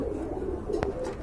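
Pigeons kept for sale coo nearby in a low, steady murmur, with a soft wing flap or knock briefly breaking in partway through.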